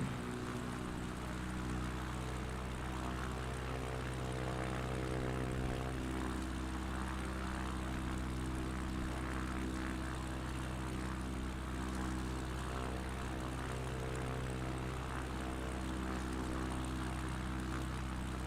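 A propeller aircraft engine in Microsoft Flight Simulator drones steadily and loudly at the end of the runway at Unalaska, Alaska, a constant even hum without any talk.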